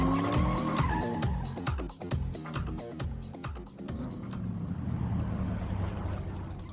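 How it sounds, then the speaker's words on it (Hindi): A car is driven fast with tires skidding and squealing in repeated bursts over a rising engine roar, which settles into a steadier rumble toward the end. "एक तो गाड़ी भी इतनी तेज चलाती है ना"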